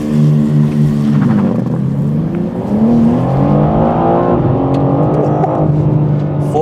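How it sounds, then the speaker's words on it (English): A BMW M4 CSL launches hard under launch control, its engine roaring loud and close as it climbs through the gears in a sustained rising, shifting howl with no talk over it. "Now to put this car on launch control, traction control has to be off, gearbox in manual"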